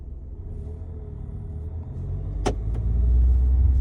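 Steady low engine rumble from inside a diesel Peugeot 3008 II GT Line 1.5 BlueHDi SUV with automatic gearbox moving along a road, building slightly louder toward the end, with a couple of brief clicks.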